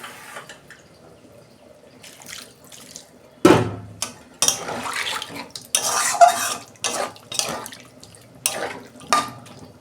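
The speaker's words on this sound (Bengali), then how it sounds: "কষানো হয়ে গেছে, আমি জল দিচ্ছি।" Water poured into a pan of curry with fried stalks and potatoes, splashing and clattering in several bursts against a quiet kitchen background.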